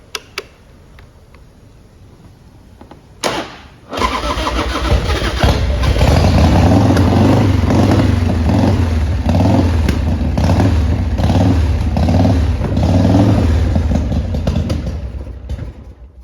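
A 1991 Harley-Davidson Heritage Softail Classic 1340cc cranks briefly, then catches and settles into a loud, lumpy, uneven idle close by that runs on steadily for about twelve seconds.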